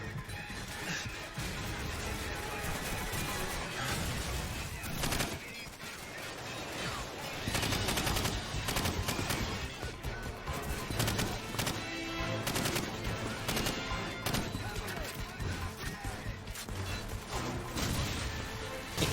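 Call of Duty 4: Modern Warfare combat, with dense machine-gun fire and booming grenade blasts going on nonstop at high volume and heavy crashing impacts scattered throughout.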